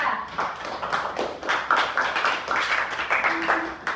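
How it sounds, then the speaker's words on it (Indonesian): A classroom of children claps for a student group after its presentation, a moderate patter of hand claps running steadily throughout at a fairly soft level. "Kita beri tepuk tangan untuk kelompok 3."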